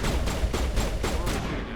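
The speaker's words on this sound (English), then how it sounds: "What are we shooting at?" Rapid sci-fi gunfire from the Mass Effect 1 video game, a dense continuous burst of repeated shots with regular pulses, loud and close throughout.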